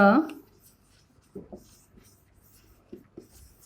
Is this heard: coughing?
no